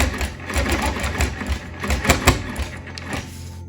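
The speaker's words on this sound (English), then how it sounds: "I'm gonna tilt it so I can kind of rotate as I stitch" A sewing machine stitches a wholecloth quilt along a ruler, its needle chattering in a fast, even rhythm close by with brief uneven bursts as the work is turned.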